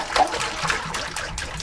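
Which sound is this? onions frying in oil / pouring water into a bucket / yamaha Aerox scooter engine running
pouring water into a bucket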